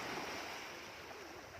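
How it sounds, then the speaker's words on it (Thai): Sea waves wash onto a beach in a soft, continuous rushing roar, faint and steady throughout a brief stretch, with no voices. "ทะเลครั้งแรกของอาคินครับผม"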